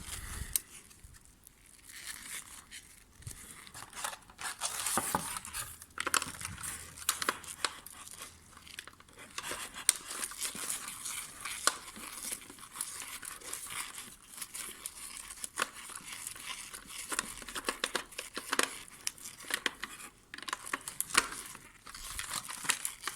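Packaging for a Welly 1:24 DeLorean Back to the Future model car set is opened with close, continuous crinkling and tearing of plastic and paper, faint and scratchy throughout.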